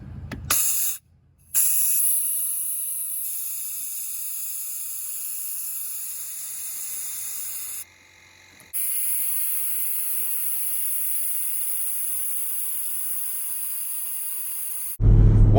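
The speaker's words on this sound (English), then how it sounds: "One tip I suggest is airing out these drain tubes at least 3 times each with the air compressor." An air compressor blows out the sunroof drain tubes of a 2005 Dodge Durango 5.7L Hemi in long, loud, steady hissing bursts, with brief pauses between blasts, close to the microphone, with no talking.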